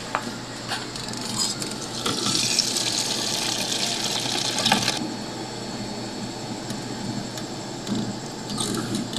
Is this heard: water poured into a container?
yes